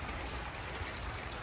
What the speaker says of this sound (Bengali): আমাদের গ্রামে অনেক বৃষ্টি হইতেছে